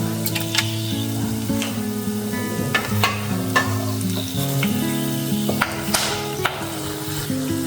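Cinnamon, black pepper and cloves sizzle in hot oil in a pan while cooking a pumpkin dish, a steady crackling fry broken by occasional sharp ticks from stirring, with faint music in the background.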